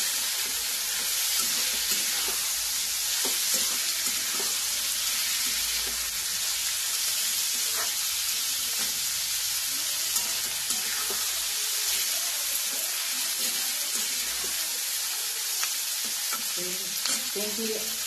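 Shravan ghevada bean pods roast in a hot pan with a steady, dense sizzle and frying hiss, broken by occasional scrapes and stirring clatter, continuous and close throughout.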